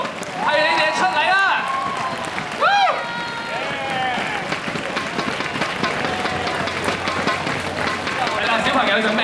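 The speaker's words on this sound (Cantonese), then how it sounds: "我哋一齊俾啲掌聲我哋每一隊嘅表演單位同埋佢哋排舞導師，唔好停嘅掌聲啊！" An audience applauds dance performers at a stage show, a steady wash of clapping and crowd noise under a loud amplified voice that speaks over it.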